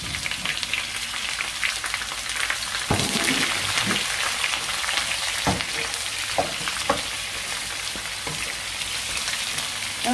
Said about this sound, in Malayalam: നമ്മളിനി സവാള ആഡ് ചെയ്യുകയാണ്